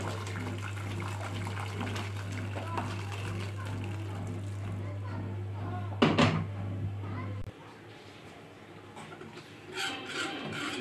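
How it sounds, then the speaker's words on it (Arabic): Salted pasta cooking water with chicken stock poured into béchamel sauce in a pan, a broad wet rush over a steady low kitchen hum, swelling briefly midway before the hum cuts out. "وهننزل عليه بقى بالميه، الميه بتاعت المكرونه"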